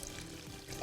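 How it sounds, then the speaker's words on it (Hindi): Water is poured into a blender over roughly chopped onions, a quiet continuous trickle at close range with faint kitchen hum and no voices. "हल्का सा इसमें हम डालेंगे पानी"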